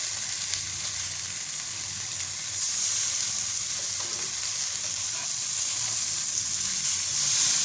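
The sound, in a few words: fish frying in a pan without oil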